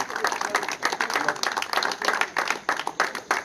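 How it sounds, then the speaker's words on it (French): An audience at a songo game tournament ceremony applauds the champions, a steady dense round of hand claps rising and falling in loud rhythmic bursts. "Pour les champions, on applaudit."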